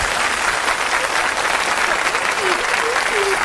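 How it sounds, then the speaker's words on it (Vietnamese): Steady audience applause at a Vietnamese comedy sketch stage show, dense and continuous throughout, with brief sung or vocal tones faintly rising through the clapping near the end. "Xin quý vị cho một tràng pháo tay"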